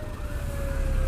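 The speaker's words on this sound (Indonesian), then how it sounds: "ambulan rumah sakit Sekayu, RSUD Sekayu" A steady wailing siren from the RSUD Sekayu hospital ambulance sounds loud and close on a road, held over a low rumble of engine and wind noise.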